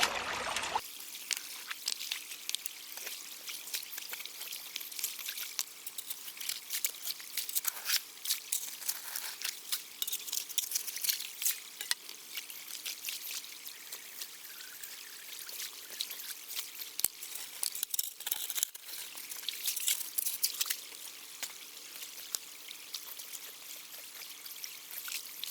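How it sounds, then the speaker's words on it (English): Water rushes and trickles steadily into a ram pump's screened intake pipe set among rocks in a stream, a continuous close bubbling flow lasting throughout without pause. "I can already see bubbles where water is getting pulled into that pipe."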